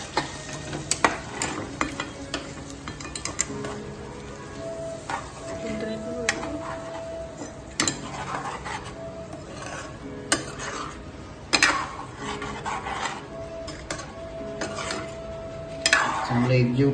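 A spoon stirs a green paneer mixture in a pan on the stove. Steady scraping and stirring sounds repeat throughout, with soft sizzling and occasional clinks against the metal.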